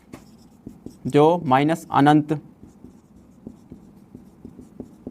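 Numbers being written on a board during a maths lesson, light tapping and scratching strokes in a quick irregular rhythm, heard alone after a short burst of speech.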